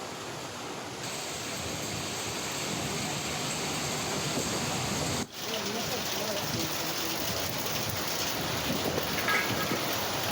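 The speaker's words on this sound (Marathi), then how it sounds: "जोरदार अवकाळी पाऊस बरसतो आहे।" Heavy unseasonal rain lashing down in Maharashtra makes a dense, steady roar of falling water, loud and continuous throughout, with no gaps apart from one brief dip midway.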